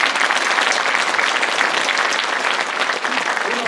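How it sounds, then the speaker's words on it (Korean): Applause from the audience at the inauguration ceremony of the Sejong City Sports Council, a dense, loud burst of steady clapping lasting several seconds with no break. "박수!"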